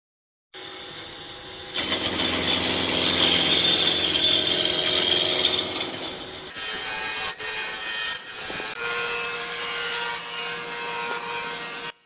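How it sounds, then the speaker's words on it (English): A roughing gouge shapes a wooden salt and pepper mill spinning on a lathe, producing a steady, loud, close scraping hiss that starts after a low motor hum, shifts tone midway and continues with brief breaks. "And to round out with a roughing gouge."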